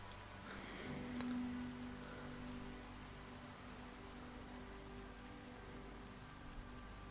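Rain falling in the VR game cyubeVR, a soft, continuous patter of drops on surfaces with a faint low hum beneath, fairly quiet and steady.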